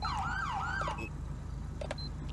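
A police car siren in GTA V wails and yelps in a rising and falling sweep for about a second and then cuts off, leaving engine hum with a few short electronic tones.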